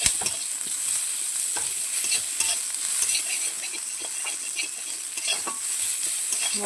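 Onions fry in hot oil with a continuous bright sizzle, punctuated by irregular crackles and the scrape of stirring, close and fairly loud with no talking.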